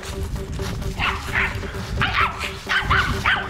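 An angry dog barks in bursts, sharp yips and barks repeating in short clusters close by inside a barn, with steady low background noise throughout.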